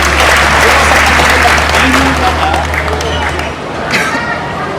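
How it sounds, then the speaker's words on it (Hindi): Vigorous crowd applause at an outdoor women farmers' gathering at a toll plaza, dense clapping with chatter and a low hum underneath, easing off toward the end. "पुरुषों के ऊपर जोरदार तालियां उनके लिए"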